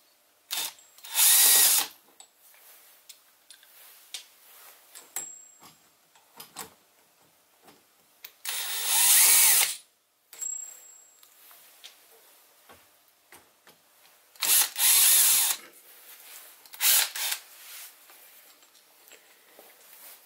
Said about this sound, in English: there are three screws holding this in place, so we'll just unscrew these